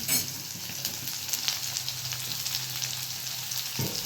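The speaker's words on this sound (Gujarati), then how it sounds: "પછી આમાં હું વટાણા નાખું છું." Green peas tipped into a hot pan of oil with carrots and chillies for homemade pulao, giving a steady close frying sizzle with light stirring and a small clatter near the end, no talk.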